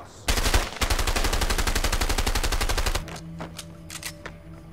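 A rapid, evenly paced automatic burst of gunfire in the video game A Way Out, loud and close, lasting nearly three seconds before cutting off into quieter game sounds with a few faint clicks.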